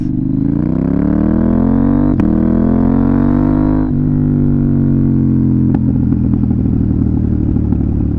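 A KTM Duke 890R fitted with an SC Project exhaust accelerates up a street, its loud, close engine roaring continuously with rising pitch and a few sharp pops as it revs through the gears.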